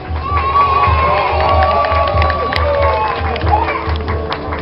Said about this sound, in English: the sound of laughter and cheers would ring through the towns